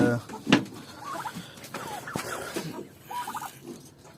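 Several turkeys gobble in short rattling bursts, one nearer and one farther, amid farmyard noise and a sharp clatter.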